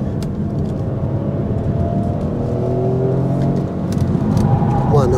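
A 2023 Opel Grandland with a 130 hp engine accelerates hard, its engine note climbing steadily in pitch with a dip as it shifts, while someone talks inside the cabin over the engine.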